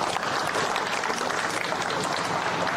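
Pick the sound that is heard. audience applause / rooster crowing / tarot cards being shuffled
audience applause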